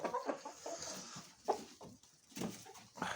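Hens clucking in short, scattered bursts with a rooster-like call among them, fairly close, on a farm in Rivne Oblast, Ukraine, with farmyard background noise and no talking.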